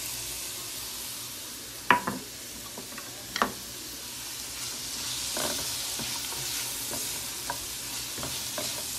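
Vegetables and parsley fry in a paella pan, a soft continuous sizzle broken by a few sharp clinks and taps of a utensil against the pan.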